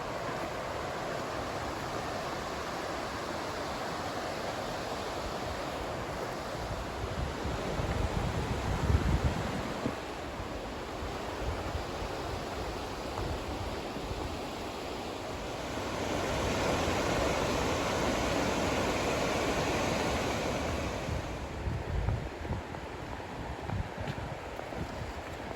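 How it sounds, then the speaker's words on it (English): River water rushing over rocks, small waterfalls and narrow chutes along a foothills hiking trail, a steady broadband roar that swells and eases, heard close and alone with no talk. "we got really close to the river and got to see all the beautiful water features, waterfalls, and little chutes through the rocks"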